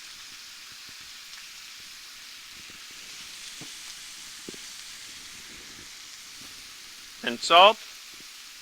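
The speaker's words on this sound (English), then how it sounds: "hit the griddle and it's got that lovely sizzle" Sliced chuck roast beef sizzles on a hot griddle as a faint, steady hiss, with a short spoken phrase near the end.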